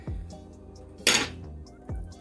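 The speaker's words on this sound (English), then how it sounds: "I'm gonna use this spatula here, and you want to mash it" A spatula knocks and scrapes against a bowl while mashing lumps out of Hennessy pound cake batter, giving three distinct clunks and one bright scraping rasp in the middle, close and clear with no talking.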